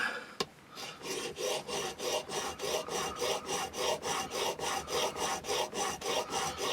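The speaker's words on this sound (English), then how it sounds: "just keep going backwards and forwards for a bit, and then we'll see how much has got to come off" A chisel is rubbed back and forth on a sharpening stone, giving a steady rasping scrape in regular strokes, about three per second, close and even, after a single sharp knock at the start.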